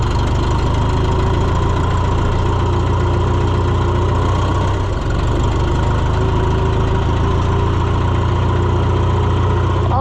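Vehicle engine while driving down the road in the cold, a loud, steady low rumble that continues without a break, close by and with no talk.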